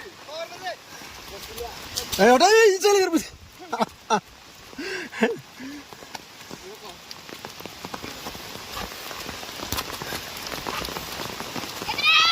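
Heavy rain patters steadily on a surface throughout a village football match, while voices shout and talk over it, loudest near the start before the rain continues alone.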